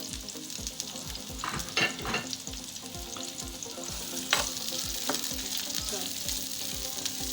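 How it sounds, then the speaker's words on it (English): Onion sautés in oil in a pan with a continuous, even sizzle and a few louder stirring scrapes. It is close and steady, with a single brief spoken word barely heard over it. "I'm going to let the onion saute for some minutes."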